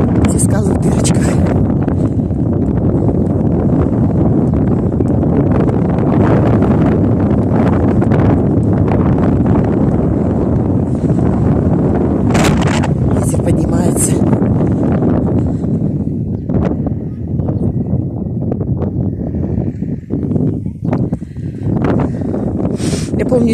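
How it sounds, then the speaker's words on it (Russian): Strong, gusting wind at seaside cliffs roars continuously into the microphone, loud and steady throughout, easing slightly toward the end. "Ох, какой ветер поднимается."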